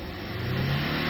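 A Mahindra Thar pulls away hard in first gear during a drag race against a Scorpio, its engine note rising steadily in a loud, continuous roar.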